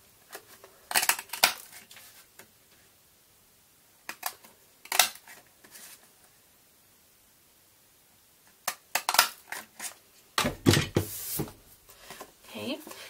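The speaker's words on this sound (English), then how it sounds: "we're going to be using our eyelet border punch and just cut one side of that." An eyelet border punch cuts craft cardstock in several clusters of crisp clicking, crunching snips separated by pauses, close up, while a voice talks in between.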